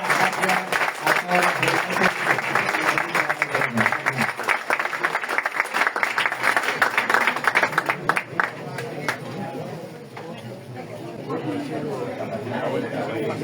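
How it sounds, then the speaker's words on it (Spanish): Dense applause from an audience at a Madrid event honouring Cervantes, loud and sustained for about eight seconds before it thins to scattered claps and crowd murmur. "un gran aplauso también para nuestros"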